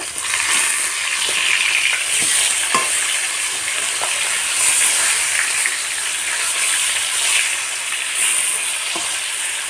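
Pieces of chital fish fry in oil with a loud, dense, continuous sizzle and hiss, close up, with a few faint crackles and pops scattered through it and no speech.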